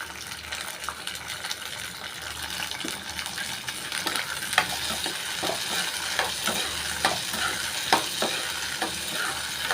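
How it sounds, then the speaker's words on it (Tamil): Turkey berries sautéing in oil with curry leaves and asafoetida, a steady close sizzle with frequent scraping stirs and crackles throughout, no talking. "ஃபஸ்ட்டு சுண்டக்காய் எண்ணெயில் லைட்டாக வதக்கி எடுத்துக்கலாங்க"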